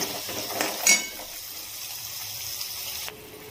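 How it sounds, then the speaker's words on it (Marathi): Water trickles little by little into a masala paste cooking in a pan for a mixed-vegetable Bhogi bhaji gravy, a steady close pour with a brief clink of utensils and no voices. "थोडं थोडं करून पाणी ओतायचं, जास्त पण एकदम नाही ओतायचं."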